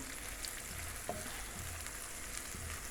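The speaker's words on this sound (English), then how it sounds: "garlic in the pot to saute" Garlic browning with onion added, sautéing in a pot for Jamaican brown stew fish, giving a steady soft sizzle with a few faint clicks and stirs, close and continuous without talk.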